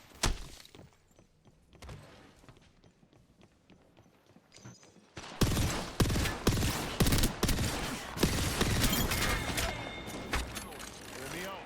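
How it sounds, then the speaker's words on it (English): Video game squad shootout: quieter scattered shots and mechanical clicks give way to a loud, dense barrage of rapid gunfire and impacts, with voices talking over the action. "They're shooting at me!"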